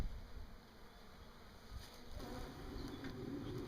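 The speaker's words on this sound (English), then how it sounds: "I only have a handful of bees in here" Honey bees buzz around a backyard hive, a quiet, continuous hum of a handful of insects with occasional individual bees passing closer.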